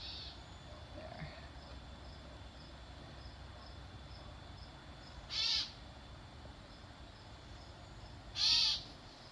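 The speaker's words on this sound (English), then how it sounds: "And there's a little bird. He's chiming in." A small bird chirps twice outdoors, brief bright calls about three seconds apart over steady, faint background ambience.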